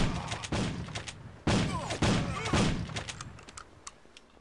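Gunshots ring out in the video game Mob Enforcer, a few sharp, loud reports in quick succession followed by fainter scattered shots that fade away.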